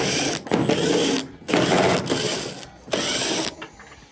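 Power driver whirring out 1/4-inch screws from a dryer's back panel, three separate bursts of about a second each with brief gaps between, close and loud.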